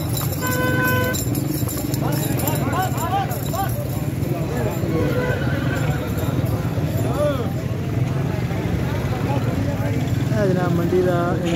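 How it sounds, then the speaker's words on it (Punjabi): A dancing horse arriving at a horse market in Aminpur clip-clops along in steady walking hooves, heard amid a busy crowd with people talking over it and a vehicle horn tooting nearby. "ਇਹ ਘੋੜਾ ਆ ਰਿਹਾ ਜੀ"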